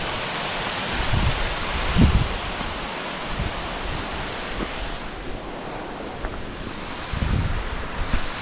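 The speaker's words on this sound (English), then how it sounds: "There's the waterfall" A waterfall on the River Swale in the Swaledale Valley makes a steady rushing roar of water, with a few louder gusty bursts, heard alone without talk.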